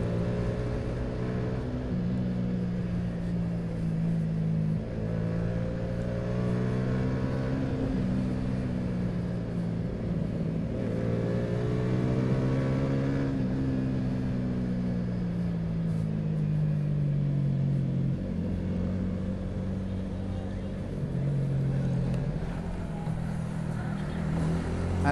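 Road traffic in Manila heard from inside a moving car: a steady low engine and road rumble with shifting tonal drones from nearby vehicles, continuous and unbroken, with no talking.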